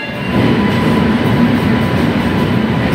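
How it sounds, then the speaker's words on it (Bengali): A train pulls away from a station in Mysuru at dawn, its rumble rising quickly and then holding as a loud, steady roll of wheels and carriages nearby. "ট্রেন ছাড়লো মাত্র।"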